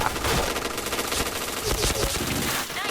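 APC9 gun fired in the game Point Blank, rapid continuous automatic bursts, loud and close, with overlapping game sounds and some talking mixed in.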